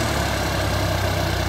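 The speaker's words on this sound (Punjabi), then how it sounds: "ਹੁਣ ਭਜਾ ਲਿਆ ਟਰੈਕਟਰ ਦੇਖੋ" A tractor engine fitted with a GS Turbo 960 runs steadily and loudly close by, a dense continuous mechanical drone with a low throbbing pulse and no voices.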